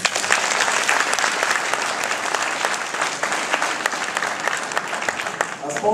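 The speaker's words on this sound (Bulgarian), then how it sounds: "Аплодисменти!" Loud, dense applause from the audience at the BG Site 2009 web awards ceremony, sustained clapping from a large crowd that stays full and even before easing slightly at the end.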